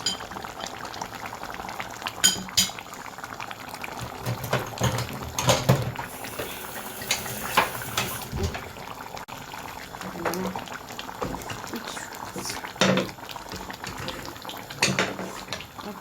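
Peanut sauce for mafé bubbling in a pot, thick boiling with irregular pops and splatters alongside clinking utensils and pot sounds, fairly quiet, with some talking in the background.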